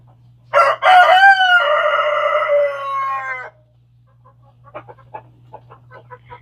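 A rooster crows once, loud and close, in a long drawn-out call, followed by a few soft clucks and scratchy sounds.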